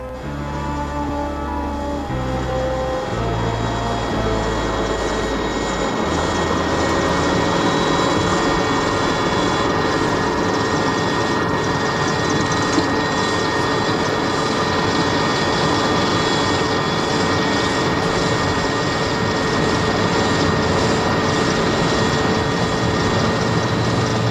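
Military aircraft engines roar steadily and loudly at close range during wartime troop boarding for a South African operation into Angola, with a constant droning whine and no talk.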